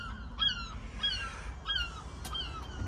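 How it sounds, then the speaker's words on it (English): Several shrill bird calls ring out at intervals over steady low rumble, sounding like gulls crying overhead at moderate distance. "We've got the seagulls coming over by the sounds of it."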